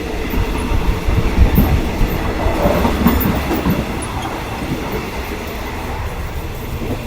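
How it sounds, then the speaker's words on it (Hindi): Passenger train on the Pattaya to Bangkok line in Thailand, heard from inside a carriage as a steady rumbling roll with clattering wheels, louder in the first few seconds, then settling into an even hum. "बहुत टाइम के बाद मैं ट्रेन के ऊपर सफ़र कर रहा हूँ इस तरह की ट्रेन पे।"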